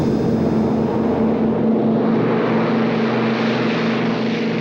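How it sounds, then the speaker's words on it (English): An army propeller airplane takes off, its engine and propeller making a loud, steady droning roar that holds throughout without pause. "Army 656, your flight plan has been approved. Cleared for takeoff."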